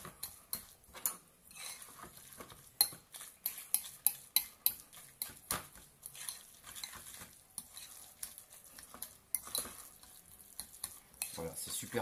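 Batter being stirred and mixed in a bowl, with repeated soft clinks and scrapes of a utensil against the sides in an irregular rhythm, close up and with no talking.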